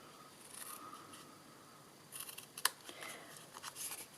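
Paper trimmed with scissors while making a card, a few quick faint snips and scrapes that sharpen into one crisp cut partway through, close by in a quiet room.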